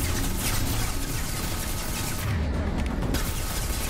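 Sustained, dense gunfire and booming blasts in a Mass Effect 2 firefight form a loud, continuous wall of noise with barely a break.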